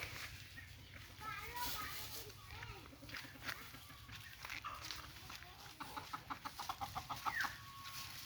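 Local desi roosters and chickens cluck and call in a mango orchard, with children playing and voices chattering close by, and a burst of rapid clucks building toward the end.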